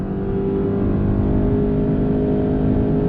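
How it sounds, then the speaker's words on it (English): A 2019 Honda Accord Hybrid with a CVT accelerating on throttle in sport mode: a steady, droning engine hum holds at a constant pitch inside the cabin, loud and continuous with no talk. "sport mode acceleration on throttle."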